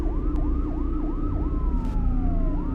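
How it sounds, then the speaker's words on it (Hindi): A police siren in a video game wails continuously, its rapid yelp pattern cycling over a dense, rumbling engine-and-traffic backdrop, loud and close with no speech. "मुझे पुलिस सायरन की आवाज आ रही है गाइस"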